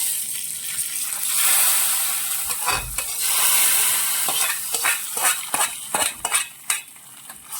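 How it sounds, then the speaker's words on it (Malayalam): Hot fried tempering poured into a red ground-coconut curry of prawns and ash gourd, giving a loud burst of sizzling followed by spoon clinks and stirring against the pot, close up. "ഇനി നമുക്കിത് നമ്മുടെ കറിയിലോട്ട് ഒഴിച്ചു കൊടുക്കാം."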